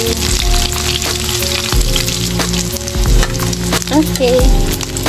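Food frying in hot oil until golden brown and crispy: a loud, steady sizzle with scattered crackles and light clatter, with no voices.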